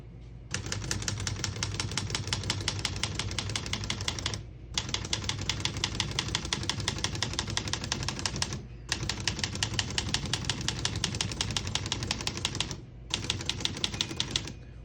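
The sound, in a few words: typing on a manual typewriter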